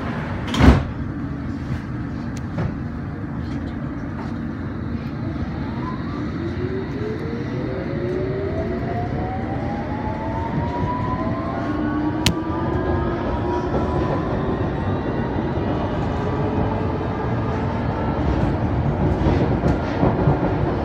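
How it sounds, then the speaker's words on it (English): A London Underground Hammersmith and City line train heading to Whitechapel, heard from inside a carriage near Wood Lane: a constant loud rumble of wheels on track, with a motor whine that rises in pitch as the train accelerates and a single sharp click. "This is a Hammersmith and City Line train to Whitechapel."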